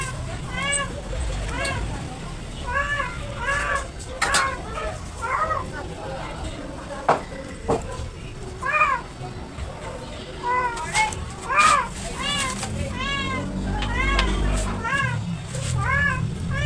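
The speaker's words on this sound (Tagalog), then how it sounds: "Maingay yung pusa ko." A house cat meows repeatedly in loud, closely spaced cries, some stretched into yowls, over a steady background hum, with a person talking through parts of it.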